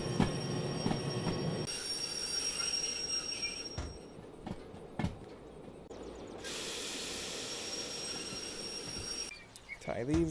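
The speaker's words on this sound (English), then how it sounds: "Go ahead and slow my train down before it clobbers into these gondolas" Train running in the Derail Valley VR simulator, a rumbling rolling drone with a high squeal of wheels on rails, sharp clanks and shifting hiss and steam bursts across the span.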